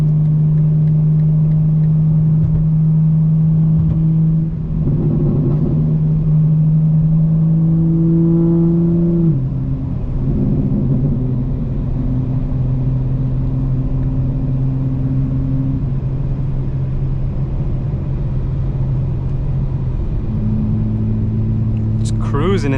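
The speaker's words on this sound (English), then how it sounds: "Every time you lift off, that's when you'll hear the the burble guys, as well as when I downshift, you'll hear it" A 2025 BMW M4 Competition xDrive cruising at low throttle in seventh gear, its engine humming steadily with shifts in pitch as the driver lifts off and downshifts, someone talking over it throughout.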